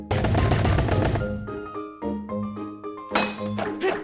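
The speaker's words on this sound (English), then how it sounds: "You need to cut them all without moving from that spot." Sword strikes slicing through logs in the Wii game The Legend of Zelda: Skyward Sword, loud overlapping thumps and clangs followed by ringing musical tones and a second burst of hits, with no talking.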